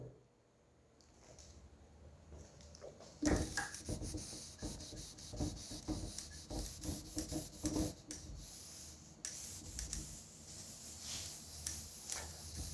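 Rubbing strokes of an eraser wiping writing off a classroom board, a rapid run of scrubbing swipes starting after a quiet moment and continuing steadily, fairly close, with no talking.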